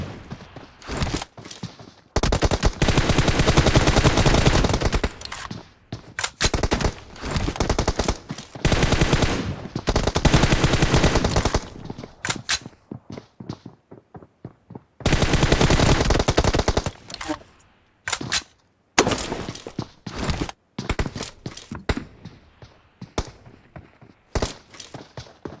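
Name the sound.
gunfire in a multiplayer shooter video game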